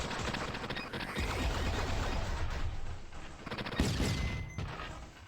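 The Red Dragon weapon firing in a video game. It keeps up a loud, continuous mechanical roar of rapid fire with ratcheting whirs, and a few sharper bursts break through near the end.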